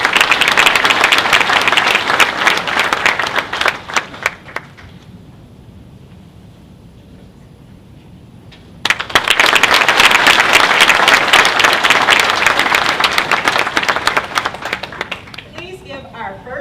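A crowd at a medical school white coat ceremony applauds students in two loud, dense bursts of clapping, separated by a few seconds of quieter room where a voice speaks.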